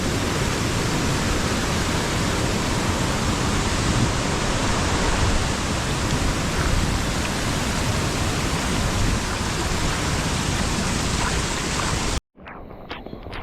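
Rain and small waterfalls on a foggy Matheran trek: a thick, unbroken hiss of rain and rushing water, loud and close for a long stretch before it cuts off abruptly near the end.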